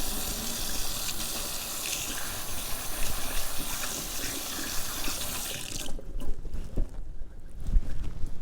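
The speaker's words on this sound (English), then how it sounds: "I'm going to take a second here and just wash my hands." Hands washed under a running kitchen tap partway through cooking a meat, mushroom and onion dish; a steady, close water stream pours for about six seconds, then shuts off, leaving quieter room sound.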